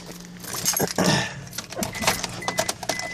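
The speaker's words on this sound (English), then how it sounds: "I'm getting my keys out." A bunch of keys jingles and clinks as it is pulled out before starting an Isuzu Rodeo after intake manifold work, several close metallic jangling bursts with brief pauses between.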